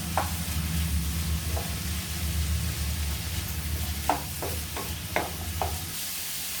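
Cabbage hits a hot pan for vegetable Maggi noodles, giving a steady close sizzle with several quick scraping stirs near the end.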